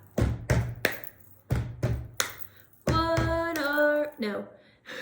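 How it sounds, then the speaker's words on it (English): Hands thump a table and clap in a stomp-stomp-clap pattern, several sharp beats in a row, followed by voices singing a short rhyming chant over the rhythm. "So it's table, table, clap."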